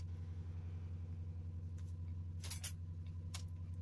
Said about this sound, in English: If you're hearing the forklift running, that is my car going up in the air on the forklift.